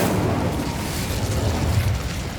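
A fire spell is cast in the Hogwarts Legacy video game, a loud roaring, booming whoosh of flame that holds steady for a couple of seconds, with no voices.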